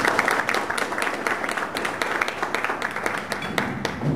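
An audience applauds a guest speaker, Brad Mann, at an LA2M tech meetup: steady, dense clapping from many hands fills the room, fairly close and continuous throughout.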